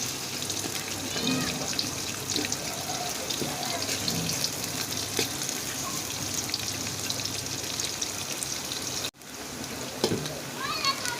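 Chopped onions, about a cup, fry in hot oil while being stirred, giving a continuous close sizzle broken by scraping and faint clinks, with a voice talking at times over it.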